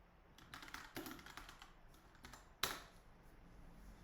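Quiet typing on a computer keyboard, a short run of soft key clicks in a few quick clusters, ending with one sharper tap, close and alone without talk.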